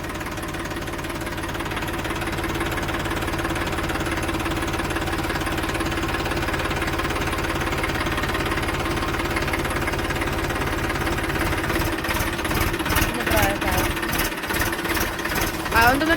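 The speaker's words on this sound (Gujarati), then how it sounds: "આપણે જુઓ ટ્રેક્ટર લઈને જઈએ ખેતરમાં" A tractor engine runs loud and close while driving out to the farm, a steady rapid diesel chugging that grows rougher and more uneven toward the end as the ride bumps along.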